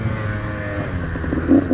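A KTM 150 XCW two-stroke dirt bike with a Lectron carburetor and a flooding and bogging problem revs in third gear, a loud, steady engine drone that swells briefly near the end.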